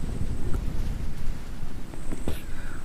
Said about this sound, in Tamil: மழை திடீரென வருகின்றன